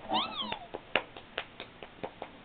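A kitten meows with a run of rising and falling high cries at the start, then a string of short, sharp clicks or taps at a steady, irregular pace, close and fairly clear.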